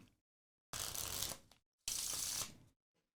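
Two bursts of playing cards shuffled by hand, each a dense riffling rustle lasting under a second, close and crisp, separated by a short silence with faint handling sounds around them and no voices.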